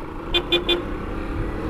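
Three quick, bright toots of a vehicle horn on a motorcycle ride, evenly spaced and moderately loud over a low steady engine and road rumble.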